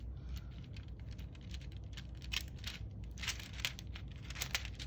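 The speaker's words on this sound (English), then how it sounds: "I'm going to have to use the scissors." Scissors snip through paper while trimming a page for a Franklin Covey Compact Aurora weekly planner, a series of small crisp cuts and crinkles, close and quiet, with no talking.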